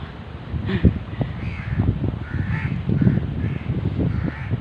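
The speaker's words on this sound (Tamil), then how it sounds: "காக்கா சவுண்டு பயங்கரமாக கேட்குதுங்களா." Several crows caw repeatedly in the distance, harsh calls overlapping across an outdoor background hum, with no one speaking.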